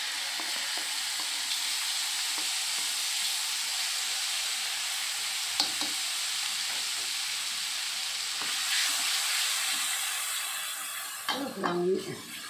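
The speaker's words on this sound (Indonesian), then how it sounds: "Tumis bumbu yang sudah dihaluskan." Ground spice paste for martabak telur sautéing in hot oil, a steady broadband sizzle with occasional stirring scrapes throughout and a brief louder clatter near the end.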